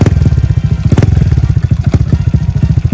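Loud, close Honda Wave 110i motorcycle with a modified exhaust pipe, a deep, throaty, pulsing exhaust note, throbbing steadily with slight surges as it revs.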